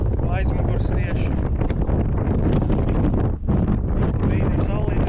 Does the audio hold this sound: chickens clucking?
no